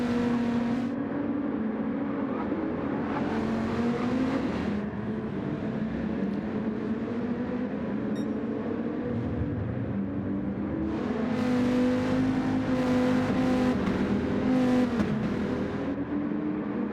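Race cars in a racing game pull out of the pit lane in a pack, engines droning steadily and close with rising and falling pitch as several cars pass, continuous throughout.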